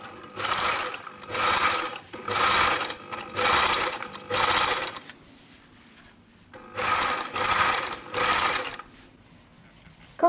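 Sewing machine stitching a raglan shoulder seam on a kit top, loud close bursts of rapid whirring stitches in about eight runs, with a quiet pause partway through.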